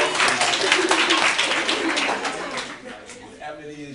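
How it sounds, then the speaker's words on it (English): A school audience at KIPP Academy claps for a student. The loud burst of applause is full at first, then thins and fades as a voice begins speaking over it. "Y'all get my man a clap too."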